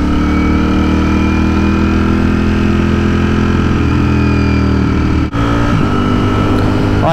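A Streetfighter motorcycle engine idles steadily at low revs with a deep, throaty exhaust rumble, close and loud, with a brief dip near the end.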